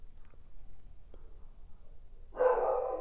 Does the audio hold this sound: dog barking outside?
yes